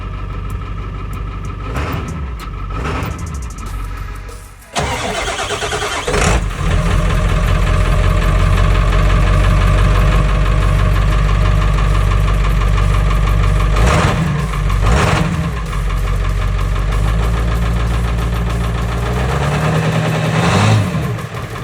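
A 1990s-era Ford 7.3 Powerstroke diesel truck cranks after glow plugs warm, catches on a cold start, then settles into a loud, steady, clattering diesel idle with a few brief revs.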